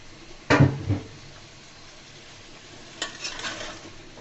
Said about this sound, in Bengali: আমার পাতিলটা ছোট হয়ে গিয়েছে, তার জন্য আমি এই পাতিলে ঢেলে নিচ্ছি